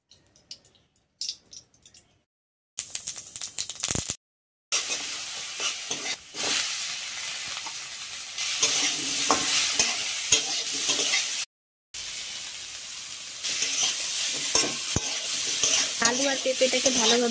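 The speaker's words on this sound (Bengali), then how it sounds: "আলু আর পেঁপেটাকে ভালোভাবে কষিয়ে নেওয়া হলো মশলা দিয়ে।" Potato and papaya pieces stir-fried with spices in a wok, loud close sizzling and hissing with scraping stirs and squishy turns, broken by a few brief silent cuts.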